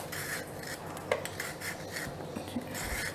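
Cabbage and carrot being peeled into long strips with a peeler, a continuous scraping rasp with quick repeated strokes, close up and fairly loud, with no talking.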